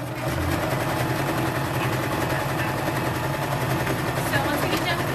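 A domestic sewing machine runs steadily while stitching shirring on T-shirt sleeves, a loud, close, continuous rapid whirring chatter throughout, with faint talk underneath.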